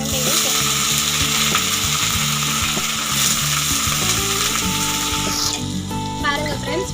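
Pirandai sautéing with onions and green chillies in a pan for chutney, a loud continuous sizzle with repeated scraping and clicking stirs close by, easing slightly toward the end.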